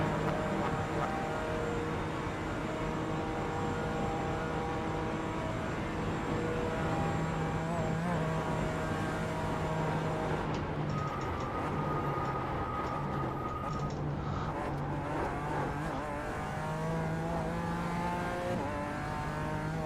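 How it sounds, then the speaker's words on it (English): A racing car engine in iRacing at the Nürburgring Nordschleife drones and revs continuously, shifting pitch as it accelerates, with other engine sounds layered underneath; no voices. "that sounds like a wild car, drag tuner"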